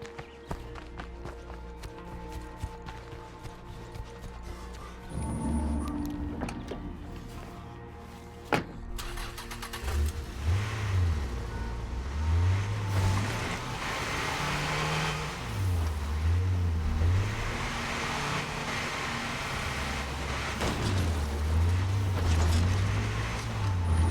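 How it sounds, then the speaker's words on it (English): Car engine in State of Decay 2 hums and revs with rising and falling pitch, a steady mechanical drone of a vehicle driving, moderately loud with no voices. "I hope they don't follow the sound of the car home."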